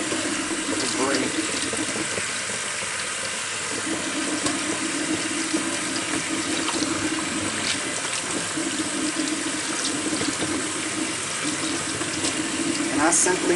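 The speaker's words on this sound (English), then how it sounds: "I simply do this by taking my sea moss, rubbing it together, and pouring the water off" Tap water runs steadily into a sink while sea moss is rubbed and rinsed by hand, a constant close hiss with occasional splashes and faint handling noises throughout.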